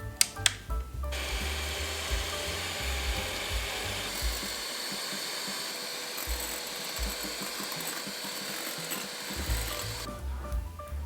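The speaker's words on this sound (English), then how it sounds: "Now I'm going to beat these egg whites with a hand mixer until stiff white peaks" A hand mixer whirs steadily while beating egg whites toward stiff peaks, a loud, continuous motor drone with a rattling, buzzy edge that starts abruptly and cuts off near the end, with no talk over it.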